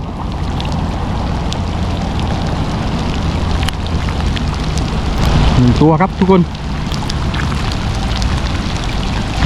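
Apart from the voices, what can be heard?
heavy rain falling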